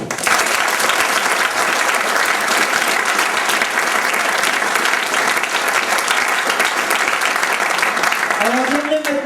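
Theatre audience at a French stage show in Châtel-Guyon breaking into dense, sustained applause that fills the hall steadily from start to finish, with a voice rising over it near the end.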